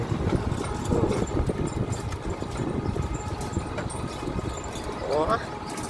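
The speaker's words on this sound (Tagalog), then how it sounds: "Nahirapan yung motor, Lola." A motorcycle engine labours and strains under load, a steady mid-pitched drone running throughout at moderate level, with voices talking over it and a brief rising whine near the end.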